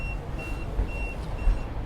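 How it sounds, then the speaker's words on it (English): Repeated electronic bleeps from the AIS alarm aboard a Prestige F4.9 yacht, short tones spaced about half a second apart over a low steady background hum. "AIS alarm."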